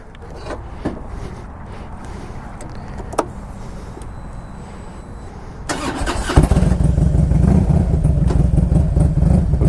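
A Harley-Davidson Road King touring motorcycle with custom pinstriping starts up: a few clicks and clunks, then the engine catches and settles into a loud, steady, rumbling run close by.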